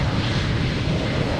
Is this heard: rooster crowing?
no